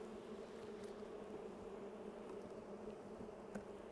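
Honey bees hum steadily around an open hive during an inspection, a constant soft buzzing drone with no voices, faint and even throughout.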